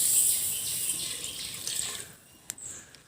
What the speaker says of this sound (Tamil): லெமன் சைஸுக்கு எடுத்த புளி தண்ணி அதை சேர்த்துருவோம்